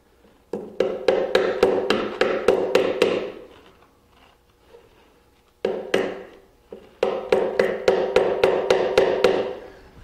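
A hammer taps upholstery thumbtacks into a wooden furniture leg in quick, sharp bursts of about ten strikes each. The strikes are close and distinct, with a short quiet pause between bursts.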